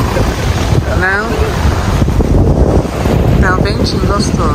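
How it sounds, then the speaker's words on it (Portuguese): Wind blows by the sea at Helsingborg, buffeting the microphone with loud, gusty rumbling over a surf-like wash, while voices talk briefly in the background. "Tá um ventinho gostoso."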